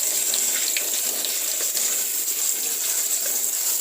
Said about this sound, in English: this time we have a kitchen sink, so I'm going to use tap water